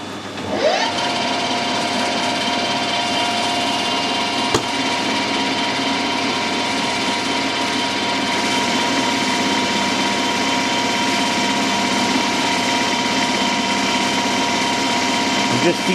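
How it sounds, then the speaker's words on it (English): A metal lathe fitted with imperial change wheels is fed by hand, and its motor and gearing give off a loud, steady whine with a faint rattle that holds from start to finish. A brief click comes midway. "I'm just feeding this by hand because I've got imperial change wheels on the back of the lathe"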